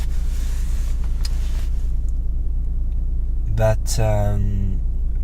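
Steady low engine rumble and road hum from inside a car while driving, constant throughout, with a person speaking briefly near the end.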